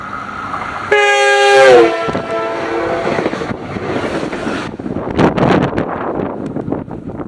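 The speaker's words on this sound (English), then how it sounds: "the engineer, well, blew the horn right on top of me" A southbound FrontRunner commuter train blasts its horn at close range, a loud multi-tone chord, then rumbles past with heavy wind buffeting the microphone.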